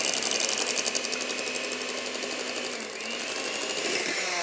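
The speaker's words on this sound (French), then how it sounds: "On va préparer les blancs d'œufs à neige avec l'aide d'un batteur électrique." An electric hand mixer whips egg whites in a bowl with a steady, high-pitched motor whine and a rapid pulsing beater rattle, close and continuous, the pitch dipping briefly midway.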